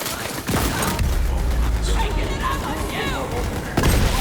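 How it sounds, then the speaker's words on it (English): Rapid bursts of turret gunfire in the video game Borderlands 3, continuous and loud, with someone talking over the shooting. "Freaking turrets, man. Turrets are getting in my way. So many turrets going on."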